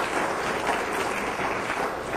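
Applause from a debate audience on a university campus, a dense steady wash of many hands clapping that holds at an even level throughout the short stretch with no voices on top.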